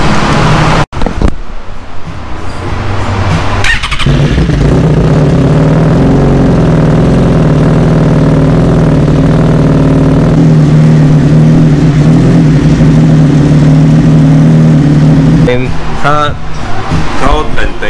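A Suzuki GSX-R1000 K7 motorcycle engine runs at a steady idle, its loud, even low rumble continuing throughout, with brief blips near the start and end and people talking over it.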